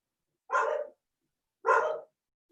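A dog gives two separate barks about a second apart, each one close, loud and short, with silence between and no voices around them.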